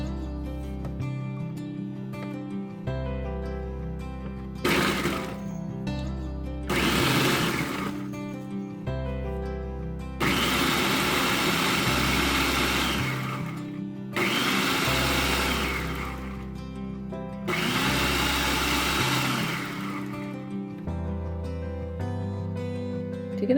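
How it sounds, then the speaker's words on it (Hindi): An electric kitchen blender grinds Adana kebab ingredients in several loud bursts of a few seconds each, separated by short pauses where a low motor hum and faint clatter remain. "ब्लेंड करते हैं, ठीक है। थोड़ी सी आवाज़ तो होगी।"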